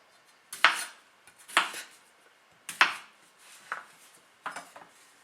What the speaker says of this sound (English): we're gonna cube these, so we're gonna chop them into about 1 inch or 1/2 inch chunks